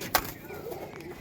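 Punjabi Malwahi pigeons coo softly in a short, low murmur, with one brief sharper note near the start and faint background noise.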